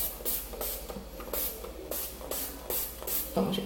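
A pump bottle of Niely Gold liquid keratin spray mists onto hair in a run of repeated short hissing spritzes, close and loud, each burst quickly following the last.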